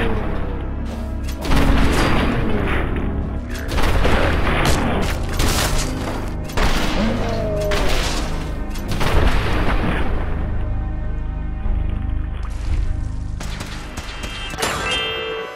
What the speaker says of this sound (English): And here's the Furious Power Fist in action.